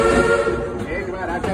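A train whistle sounds amid rumbling rail noise on a train ride, loud and sustained with layered tones, briefly overlapping talk.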